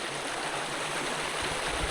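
A swollen river rushes past in a dense, steady roar of flowing water, loud and close, with no voices.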